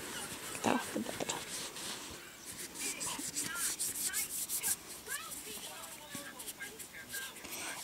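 Corn starch being rubbed by hand over a leg: close, scratchy rubbing strokes in an irregular rhythm, with scattered knocks and shuffling around it.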